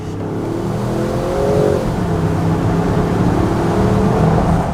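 A 2023 Range Rover Sport P530 with the 4.4-litre V8 and a Quicksilver exhaust, valves closed, revving as a smooth, muted engine drone that rises and holds steadily, fairly loud and close with no speech over it.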